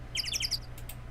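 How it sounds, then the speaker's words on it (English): Birds chirp in the background, a quick burst of about five bright tweets followed by a couple of faint, brief calls, heard alone over a low steady hum. "There's bird noises in the background because of a study"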